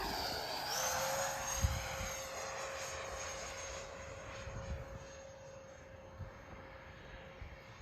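A Freewing B-2 Spirit RC model bomber with twin 70mm electric ducted fans makes a low pass, its high sustained whine and rushing roar loud at first, then slowly fading as it moves away.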